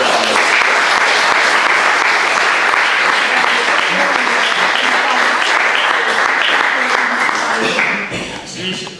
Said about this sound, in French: je voudrais un tonnerre d'applaudissements pour Gilles Candard qui nous fait l'honneur